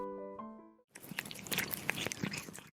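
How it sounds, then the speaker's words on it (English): A cat eating at close range, with crunchy, irregular biting and chewing that follows a brief musical tone. "A cat is eating."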